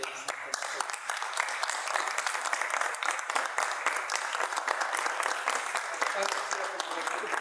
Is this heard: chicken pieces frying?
no